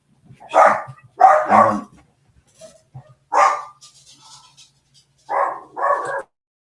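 A dog barks in several separate bursts, some single and some in quick pairs, with short silent gaps between them. The barks are loud and close, with no talking.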